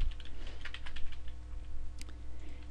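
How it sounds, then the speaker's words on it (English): Rapid clicking of fingers typing a password on a computer keyboard, steady and close with a few louder key taps, no voices. "again enter your password"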